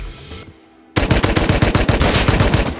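Loud bursts of AK rifle fire in an arctic area of a survival video game: a rapid automatic volley breaks in after a brief hush and keeps going in sharp, closely spaced cracks.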